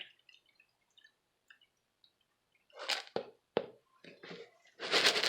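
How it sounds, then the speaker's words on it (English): Cold rice water drains out in a few short splashing pours and drips, sporadic wet bursts that come close and loud toward the end after quieter scattered drops. "what I'm gonna do is just go ahead and just drain"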